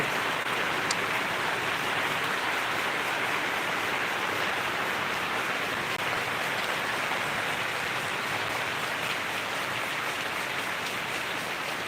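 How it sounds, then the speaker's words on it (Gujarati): Heavy rain pours down on Rampura Mota village in Dhanera taluka, a dense, steady, loud hiss of drops on surfaces that continues without a break. "વરસાદ ચાલુ છે રામપુરા મોટા ગામે ધનેરા તાલુકાની અંદર વરસાદ બહુ પડી રહ્યો છે"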